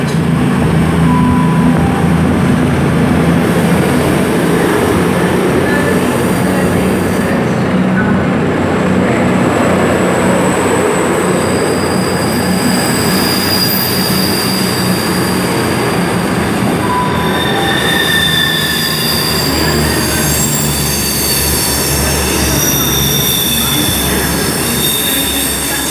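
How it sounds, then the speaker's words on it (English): Class 221 diesel multiple unit, units 221 140 and 221 134, departing Bristol Temple Meads station, with a loud sustained rumble of engines and wheels on rails and squealing wheel tones that rise and shift as the train pulls away. "departing now is 221 140"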